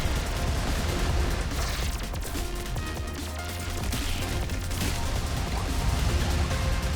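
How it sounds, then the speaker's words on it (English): Explosion in a roguelite video game, a dense, loud crashing burst with rumbling debris and crackling gunfire-like bangs sustained over several seconds, with no talk over it. "Oh, that was the explosion."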